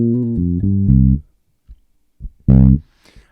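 A short funky bass guitar riff of plucked notes, a pause, then a few muted clicks and one more sustained note, loud and close.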